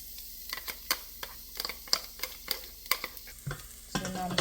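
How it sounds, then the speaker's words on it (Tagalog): Squid is stir-fried in a pan, with a quick run of sharp, clicking utensil strikes over a soft sizzle that swells into a louder burst of frying near the end. "It's gonna be stir fry squid"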